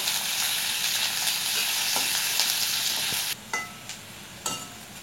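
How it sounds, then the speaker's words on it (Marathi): Onions fry in a pan for a mutton curry, a loud, dense sizzle with crackling that holds steady, then drops to quieter sizzling broken by a few sharp stirring clinks. "छान भाजून घ्यायचा आहे कांदा आपल्याला."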